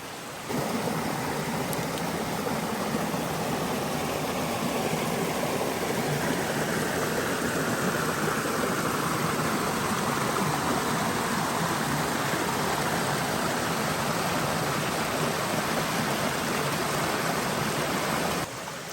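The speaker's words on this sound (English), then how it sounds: "just little rocks that the water kind of comes over the edge in a waterfall." Water spills over small rocks in little waterfalls along a mountain creek on a rainy fall day, a steady, dense rushing wash that stays even and continuous from start to finish with no voices.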